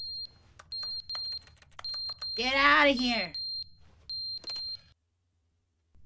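Repeated electronic alarm beeps from The Stanley Parable Ultra Deluxe video game, short regular chirps spaced about half a second apart, interrupted midway by someone shouting over them before the beeping stops.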